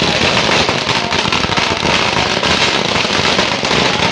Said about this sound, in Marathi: फटाक्याच्या आवाजामध्ये स्वागत झालेलं आहे